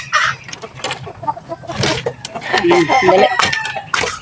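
Chickens cluck and call at feeding time, with several clucks and a rooster-like crow rising close by amid scattered farmyard noise, while a person speaks briefly over them.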